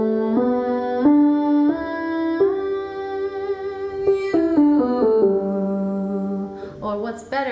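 A singer hums a sustained nasal NG tone through the front facial resonators, gliding between held pitches in a steady vocal exercise, close and clear with no other sounds.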